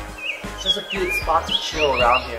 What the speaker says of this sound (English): You can hear the birds chirping around.